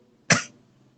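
A single short, sharp cough, close and fairly loud, followed by quiet.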